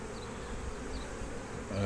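A dense, even buzz of calm honeybees rises from an opened hive with drones moving about the frames. The hum is close and continuous throughout, swells slightly at the end, and has no talk over it.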